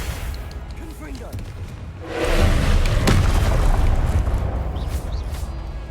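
A Confringo spell blast in Hogwarts Legacy, a deep booming burst that swells midway and holds as a loud rumbling roar with a sharp crack near its peak before slowly fading.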